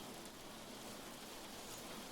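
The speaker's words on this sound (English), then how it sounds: "Jeez, the rain's getting loud." Steady rain from a storm in a horror video game, heard as a constant dense hiss of downpour with wind against a ship's hull, fairly loud and unbroken, with no talking.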